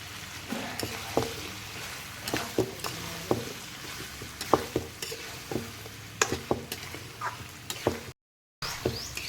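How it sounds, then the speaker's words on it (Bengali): Raw potatoes are stirred into a frying goat head curry, with a spoon scraping the pan in irregular strokes over a steady soft sizzle. "আমি আলুটা ভালো করে নেড়ে চেড়ে মিক্স করে আবার একবার ঢাকা দিয়ে দেবো"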